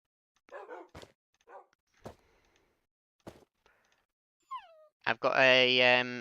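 Short yips and barks from a dog in Minecraft come in scattered bursts with gaps between them, ending in a longer whining, howl-like cry. A few brief sharp clicks are mixed in.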